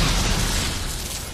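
A loud explosion erupts in the video game Dragon Age Inquisition, a broad booming burst that rolls on as a sustained rumble, slowly fading over about a second and a half with no talk over it.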